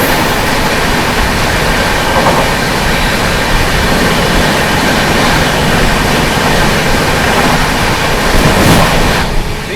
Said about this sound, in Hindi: दोस्तों सामने से आ रही है आनंद विहार टर्मिनल से चलकर रीवा की ओर जाने वाली रीवा सुपरफास्ट एक्सप्रेस आ रही है